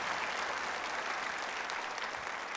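A church congregation applauds steadily and fairly faintly, a dense, even wash of clapping from a crowd with no voices above it.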